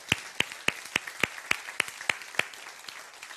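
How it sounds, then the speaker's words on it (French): Sharp, evenly spaced claps, about ten in a steady rhythm, come from a church gathering applauding the camera operators and technical crew. They are fairly faint and then die away into quiet. "Si on peut donner une main d'applaudissement à tous les caméramans, tous ceux qui nous aident au niveau de la technique."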